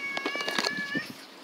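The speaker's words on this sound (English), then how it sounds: "There's that feral cat again" A feral black and white cat lets out a drawn-out, wavering meow that is fairly close and clear, with no talking over it.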